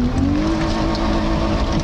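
A BMW car drifting, its engine roaring loud and close with a rising whine while the tires squeal steadily underneath.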